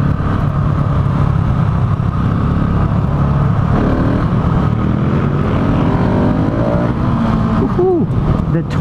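A 2018 Husqvarna 701 Supermoto single-cylinder engine pulls hard in second gear. The loud, steady exhaust roar and wind rumble rise in pitch toward the end as the revs climb, heard up close from the rider's position.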